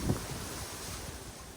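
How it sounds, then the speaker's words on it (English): Outdoor wind blows steadily past the microphone at a hillside cheese farm on Ios, Greece, a constant breathy rush with a brief gust at the start and no talking. "it's windy out here, so we're not going to talk too much outside"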